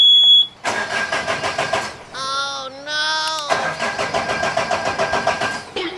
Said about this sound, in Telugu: సెల్ఫ్ మోటార్ బాగానే పనిచేస్తుంది కానీ ఇంజిన్ అయితే స్టార్ట్ అవ్వట్లేదు